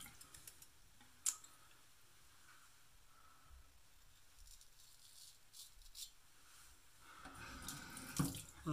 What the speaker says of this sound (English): I still rinse my blade under the tap